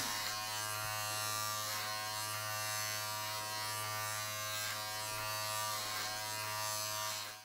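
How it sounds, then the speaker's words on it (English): Wahl electric hair clippers cutting a man's hair, a steady close motor buzz with a strong hum that holds continuously, shifting slightly in tone as the blades move through the hair. "When using your Wahl clippers here, remember to cut with an upward rocking motion."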